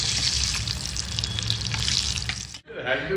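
Gravy fries in very hot oil with a loud, continuous close-up sizzle, then cuts off abruptly near the end, leaving a quieter murmur.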